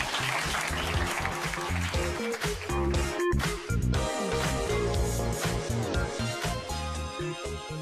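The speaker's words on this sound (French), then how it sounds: "Et vous pouvez applaudir." Loud, sustained applause from a television studio audience during a French talk show, steady for several seconds over a background of music.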